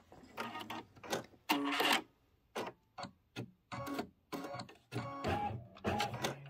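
Embroidery machine stitching a pieced quilt block, rapid mechanical whirring bursts in short stop-start runs with brief pauses between them, close and fairly quiet.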